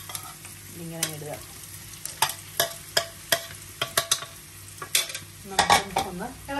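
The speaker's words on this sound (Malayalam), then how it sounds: "നമുക്ക് ഒന്ന് ഇളക്കി കൊടുക്കാം." Chicken franks fry with masala in a pan while a utensil stirs them, giving repeated sharp scraping clacks in an uneven rhythm over a steady low sizzle, close and fairly loud, with no talking.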